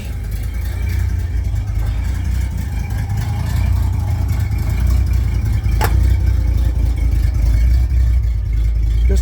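A 1966 Chevy C10 pickup's engine idles steadily and fairly loudly, a constant low rumble with no revving, alone with no talking.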